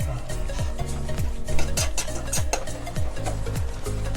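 A spoon scraping and stirring thick caramel in a pan, close up, with rhythmic swishes and soft clinks over a faint sizzle.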